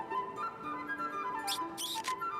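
Baby monkey on an African safari giving faint, thin whistling squeaks like a squeeze toy, with sustained tones and a few sharper chirps near the end, heard up close in a quiet setting.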